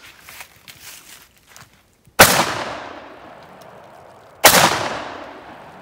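Two loud, close blasts from a JTS M12AK shotgun firing Remington 3-inch steel BB shells, each with a sharp crack and a long decaying outdoor echo, after some quieter handling noise.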